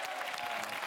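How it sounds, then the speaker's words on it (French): TV talk-show studio audience applauding, a dense steady wash of clapping hands held at an even level across the whole short burst, with no voices on top. "Applaudissements."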